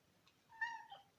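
A cat meows at a door to be let out, a single drawn-out call with a short second rise, close by and fairly quiet, with no talking over it.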